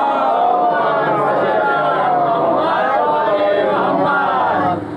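A congregation at a majlis gathering in Mumbai recites salawat together, a loud sustained swell of many voices chanting in unison without a break, cutting off at the end.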